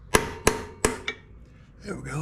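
A hammer strikes a center punch on an Ariens 911504 walk-behind zero-turn mower part. Four sharp metallic taps ring out close by, the last one lighter, then a faint rustle follows.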